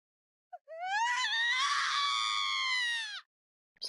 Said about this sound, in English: Suddenly, I heard a scream in the distance.